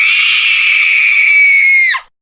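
A voice imitates a screaming sneeze: one loud, sustained shrill scream held steady for about two seconds, then cut off abruptly with a falling tail.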